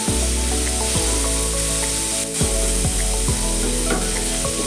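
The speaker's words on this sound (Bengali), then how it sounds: "দেখো বন্ধুরা পেঁয়াজটা ভাজা হয়ে গেছে" Two chopped onions fry in oil with garam masala, a steady close sizzle interrupted by several stirring scrapes of a spatula at roughly one-second intervals, with no speech.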